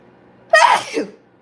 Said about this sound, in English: Oh, I done sneezed and blew the candle out on accident.